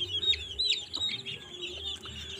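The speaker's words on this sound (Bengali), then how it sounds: "এটা হচ্ছে ব্রাহ্মা মুরগি" Young Light Brahma chickens, about 35 days old, cluck and cheep in a few short, bright calls close by over a quiet background hum, with no talking.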